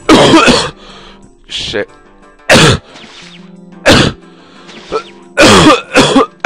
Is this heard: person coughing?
yes